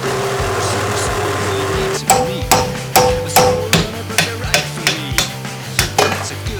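A low mechanical hum at first, then a run of sharp metallic hammer strikes, about a dozen evenly spaced ringing blows, close and loud, hammering a metal bushing out of a radius arm.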